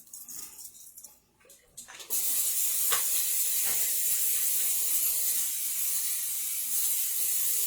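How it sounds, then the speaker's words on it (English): A steady aerosol spray of spray butter hisses continuously for several seconds onto a non-stick pan after a couple of short clicks and rattles, close and fairly loud with no talking. "But also shake some of this on it, the spray butter."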